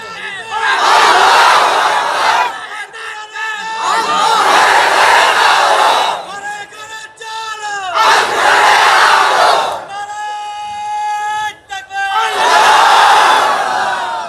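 A large crowd at a Bangladeshi stage rally chants the Nara-e-Takbir slogan in loud, repeated bursts, roaring call-and-response waves separated by brief lulls where a voice leads.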